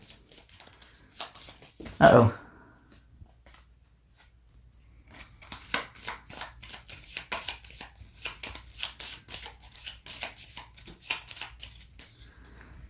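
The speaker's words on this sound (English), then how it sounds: "I have to shuffle this deck again." Cards from a Five Nights at Freddy's board game deck being shuffled, a long run of rapid, crisp riffling flutters up close, with a person talking briefly beforehand.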